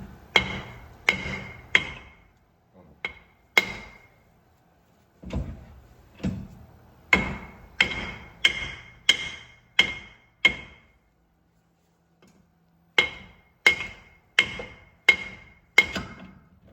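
Metal hammer blows ring out on wheel studs in close, loud bursts of three to five strikes separated by pauses, each hit sharp with a short metallic ring, with no talk.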